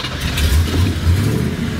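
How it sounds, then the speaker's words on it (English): A big black Chevy Chevelle muscle car engine fires up and roars close by, a deep rumbling start with uneven revving pulses. "there's that big black Chevy firing to life"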